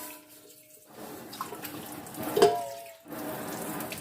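Tap water runs steadily onto an enamel pot being wetted before scrubbing, a close, continuous splashing stream that briefly pauses and swells before flowing again.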